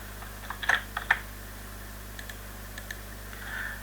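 Keys clacking on a computer keyboard during drafting work, a few quick close taps bunched near the start, then sparser light strokes over a low steady hum.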